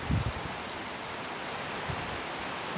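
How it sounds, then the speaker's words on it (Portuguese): Steady rain falls on a cornfield, a soft, even hiss of drops spread across the whole clip with a few low thumps, heard alone with no voices. "Agora veio a chuva mesmo e tapou."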